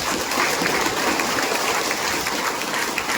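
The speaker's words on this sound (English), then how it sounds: "Let us give him a clap," An audience claps for the local MLA at a gathering with teachers and students, a dense, even wash of many hands lasting throughout without pause, fairly loud and close.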